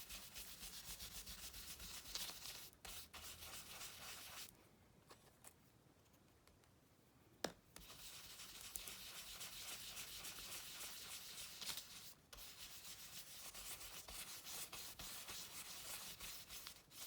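Coloring medium is rubbed into a Bible journal page with a continuous soft scrubbing friction, close and quiet, pausing briefly midway and then resuming in steady strokes.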